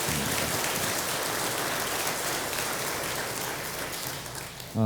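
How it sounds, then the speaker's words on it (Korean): Sustained congregational applause fills a Korean church service, a dense, steady wash of many hands clapping together that holds evenly throughout, with no voices standing out. "우리 하나님 앞에 한번 큰 감사의 박수를 한번 드리도록 하겠습니다"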